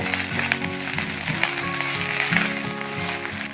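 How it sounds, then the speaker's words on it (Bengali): Steady sizzling of onion frying with ginger garlic paste in a pan over medium flame, a continuous crackling hiss with faint clinks, close and moderately loud, no voices. "আদা রসুনটা পেঁয়াজের সাথে প্রায় 1 মিনিট ভেজে নিতে হবে"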